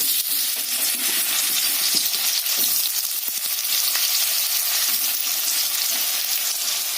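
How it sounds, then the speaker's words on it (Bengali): Raw green banana pieces fry in hot oil in a pan, a loud, close, continuous sizzle with occasional light clinks and stirring scrapes. "কাঁচকলাটা আমি একটু লালচে করে একটু ভেজে নেব।"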